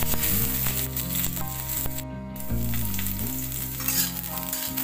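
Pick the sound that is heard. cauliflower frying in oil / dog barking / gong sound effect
cauliflower frying in oil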